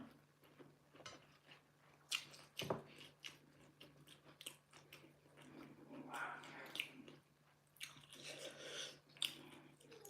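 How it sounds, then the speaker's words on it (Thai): Crunchy chewing and biting of fresh raw vegetables eaten with Thai chili paste, close to the mic with moist crunches and soft mouth sounds continuing irregularly, with no talking. "กินน้ำพริกผักกันเนาะ"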